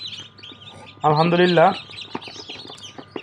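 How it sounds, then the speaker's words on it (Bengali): Five silkie chicks peep in soft, rapid chirps throughout, close by, while a person speaks briefly over them. "পাঁচটা সিল্কি মুরগির বাচ্চা"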